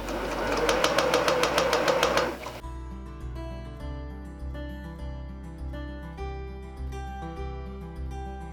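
A sewing machine joins fabric strips for a fabric bowl, whirring close and steady for about two seconds before it cuts off, followed by soft background music with no talking.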